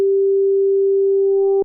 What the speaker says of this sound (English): So these are all sine waves. FM synthesis generally works with sine waves.